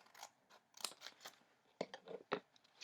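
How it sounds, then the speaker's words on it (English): Scissors snip through folded paper in a series of quiet, close, crisp cuts, irregularly spaced with small rustles of paper between them. "you're going to cut down that line into the centre using your pair of scissors as neatly as you can"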